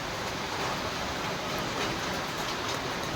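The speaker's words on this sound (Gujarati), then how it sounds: "રાજકોટમાં વરસાદ ચાલુ થઈ ગયો છે" Steady rain falls in Rajkot, a constant even hiss of drops with no breaks, filling the whole clip at moderate level.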